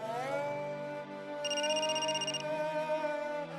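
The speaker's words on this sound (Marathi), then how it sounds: "उचल फोन, सांग." A telephone rings once in a short electronic burst, faintly behind a sustained musical background.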